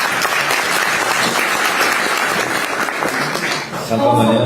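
Sustained applause from an audience at a party leader's meeting, a steady dense clatter of many hands with voices mixed in, ending in a brief shift near the close.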